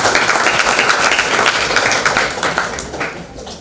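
Audience applause at an Indonesian entrepreneurship field lecture, a dense steady wash of many hands clapping that swells loud and then slowly fades toward the end.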